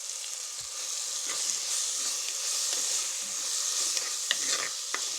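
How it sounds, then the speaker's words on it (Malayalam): Dried prawn curry with chilli powder frying in a pan, a continuous sizzle and hiss with a spoon scraping and tapping in scattered clicks as it is mixed. "ഒരു വലിയ സ്പൂൺ മുളക് പൊടി എന്നിവ ചേർത്ത് നല്ലപോലെ മിക്സ് ചെയ്ത് കൊടുക്കണം."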